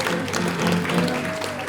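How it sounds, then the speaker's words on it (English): Audience applause for a volunteer coming on stage at a mentalism show, a steady wash of clapping with some crowd noise and musical tones underneath. "A round of applause."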